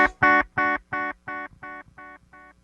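A single harmonic instrument note repeats as a delay echo, eight evenly spaced repeats each slightly quieter than the last, fading out.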